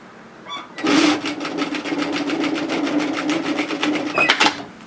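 A sewing machine stitching a 6mm seam on a sweatshirt hoodie, its needle chattering in a fast, steady rhythm for about four seconds, up close and loud, with a brief stop at the end.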